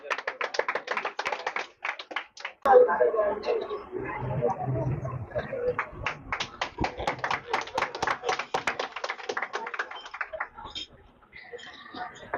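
A small audience claps to welcome a student being honoured at a 2025 Bihar board (BSEB) class 10 topper ceremony. The sharp, uneven hand claps run steadily throughout, mixed with crowd murmur and some talk, at moderate loudness nearby.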